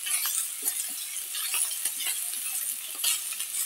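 Capsicum being stirred with vegetables in a pan over a high gas flame for veg chow mein: a steady sizzle with repeated light scrapes and clinks of a spatula against the pan, close and fairly soft.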